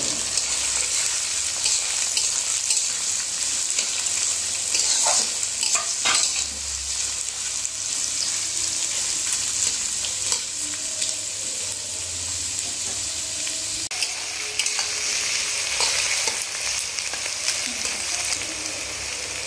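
Capsicum and onion sizzling and frying in a hot pan for chilli chicken, a steady loud crackle throughout with occasional stirring scrapes and utensil clinks, no talking.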